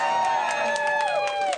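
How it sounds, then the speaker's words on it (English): A crowd of transgender supporters cheers and whoops outside the governor's office after a bill signing, a short burst of loud, bright jubilant shouting. "Jubilation today outside Jerry Brown's office, where these transgender supporters are applauding the governor's signature"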